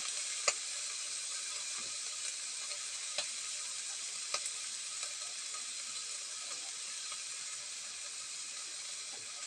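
Red rice being stir-fried with broccoli and other vegetables and oyster sauce, a steady close sizzle and hiss with a few faint clicks of a utensil against the pan.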